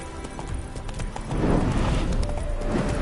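Roach, a horse in a video game, clops its hooves in a quick, close rhythm and lets out a short neigh, a brief, busy burst of game sound with no voices over it.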